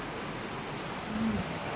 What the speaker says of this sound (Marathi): परत पाऊस चालू झालेला आहे